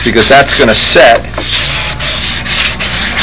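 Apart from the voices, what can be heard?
sanding model airplane wing with a sanding block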